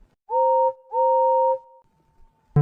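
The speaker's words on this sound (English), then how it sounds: "Presently, he heard a whistle." A steam engine whistle gives two long, steady blasts with a slight pause between them, followed by a fading lingering tone and a sudden thump at the end.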